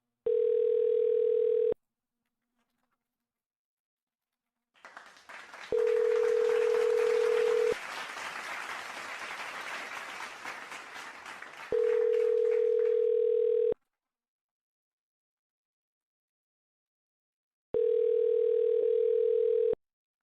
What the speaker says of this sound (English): Let's hope Rodrigo answers